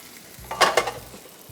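A mushroom sauce with shredded boiled chicken is stirred in a pan, two quick scraping strokes over a soft sizzle, close and brief.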